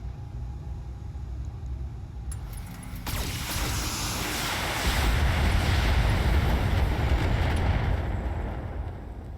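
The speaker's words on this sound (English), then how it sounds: "Vehicle destroyed." Vehicle explosion in a video game, a rumbling blast that swells from a low roar into a sustained, heavy boom and holds loud through to the end.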